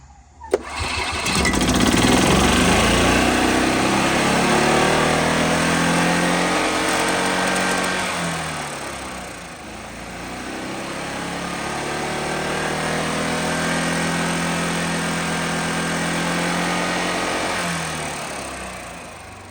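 A gas Club Car golf cart engine with its governor no longer limiting RPM roars up to high revs right after a sharp start, holds a loud steady drone, dips briefly, then climbs again, close by.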